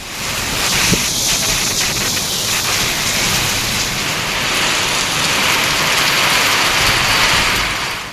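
Heavy, unbroken rain falls over town and village areas of Perambalur, a loud, dense hiss that fills the whole stretch with a little wind noise and no speech.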